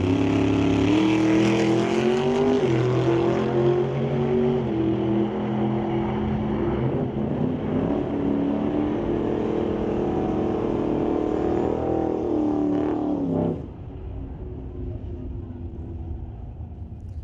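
A 2024 Ford F-150 and a Precision Performance Ford Roadster launch in a drag race at Mission Raceway Park. Loud engines roar together for about thirteen seconds, then drop away to a distant hum.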